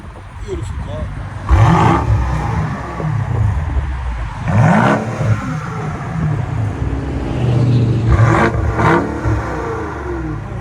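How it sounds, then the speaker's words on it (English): A straight-piped 2019 BMW X5 M50i with a 4.4L V8 revs up close and loud, three sharp throttle blips rising and falling over a deep idle rumble, with people talking nearby. "That's a mean sounding BMW right there."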